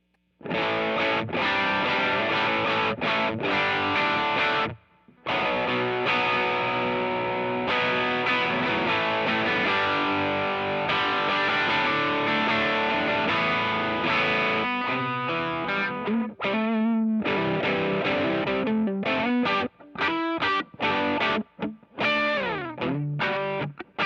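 A heavily distorted electric guitar through a germanium diode clipping circuit plays riffs and chords, loud and fuzzy, with a brief pause and some sustained bent notes.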